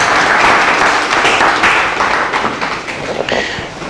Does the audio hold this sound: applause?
yes